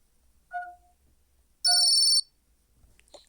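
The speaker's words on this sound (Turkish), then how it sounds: "birisi beni arıyor" A phone rings with an incoming call in a bedroom scene: one short electronic ring tone, then a longer, loud bright ring burst about a second later, with quiet rustling before and after and no talking.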